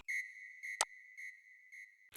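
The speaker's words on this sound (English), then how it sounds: "What I have is just that whistle sound," Whistle sound effect from an afrobeat intro: a steady high tone pulsing in short repeated bursts, clean and alone, broken by a couple of sharp percussive hits.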